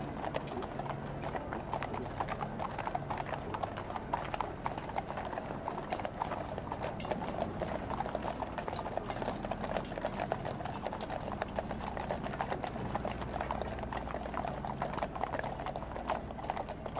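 Horse-drawn carriages at the 2013 State Opening of Parliament roll past the Victoria Tower on a sanded road, with a dense, continuous clip-clop of many hooves and faint crowd murmur underneath.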